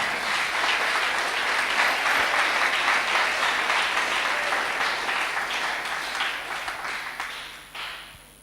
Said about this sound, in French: On acclame le Saint-Esprit.